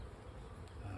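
Bees buzzing around a beehive frame, a close, continuous low hum that drifts slightly in pitch, brief and fairly quiet, with no talk over it.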